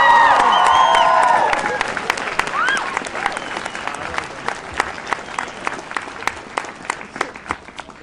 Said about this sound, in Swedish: En applåd för er!